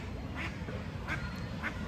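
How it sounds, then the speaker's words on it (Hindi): Ducks at a lake give three short, separate quacks at a steady pace. They sound fairly faint and somewhat distant over a constant outdoor background hum. "ये सारे बत्तख घूम रहे हैं"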